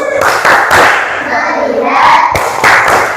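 Classroom of students doing a patterned focus clap chant together, a few loud group claps and thumps punctuating chanted voices, close and lively.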